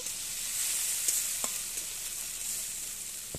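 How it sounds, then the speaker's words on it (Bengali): Spice paste of cumin and mustard with tomato sauce fries in a pan, giving a constant bright sizzle with a few faint scrapes and taps of stirring, and no voices. "দিয়ে আমি ভালো করে একটু মশলাটাকে কষিয়ে নেব"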